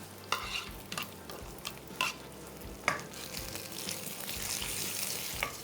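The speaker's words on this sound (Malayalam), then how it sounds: "നമ്മുടെ ഇഞ്ചിയും വെളുത്തുള്ളിയും പച്ചമുളക് നന്നായിട്ട് മൂത്ത് വരുന്നുണ്ട്." Ginger, garlic and green chillies sizzle in hot oil for a gooseberry and carrot pickle, with a steady low frying hiss broken by several sharp scrapes and clinks of a spoon stirring the pan, close by.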